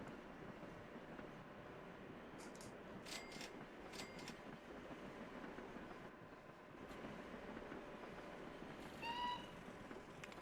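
Trains rumble along steadily in the Chris Sawyer's Locomotion video game, with a continuous low mechanical drone, a few sharp clicks in the middle and a brief whistle-like tone near the end.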